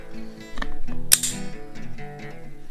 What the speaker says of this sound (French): je te laisse te montrer l'action de ce flingue. Alors la simple action ne verrouille pas